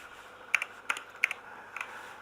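Computer keyboard typing, about five or six quick key taps in short, uneven bursts, close and clear against quiet room tone.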